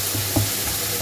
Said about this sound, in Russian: Она же только жарится на этой стороне чуть-чуть.